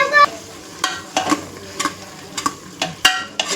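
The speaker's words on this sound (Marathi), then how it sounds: "हे सर्व एकत्रितपणे मिक्स करून घेऊया आणि याला पण चांगलं तेल सुटेपर्यंत भाजून घेऊया।" Chicken masala and two spoons of homemade masala are stirred and roasted in oil for a vajdi dish. Sharp, close spoon scrapes repeat every half second or so over a faint sizzle.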